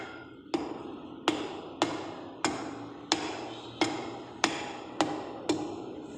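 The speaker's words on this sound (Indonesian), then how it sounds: "Pukul menggunakan palu karet." A rubber mallet strikes while a tire is being fitted onto a wheel rim, landing about nine evenly spaced, sharp knocks roughly every 0.6 seconds, close and clear, with no talking.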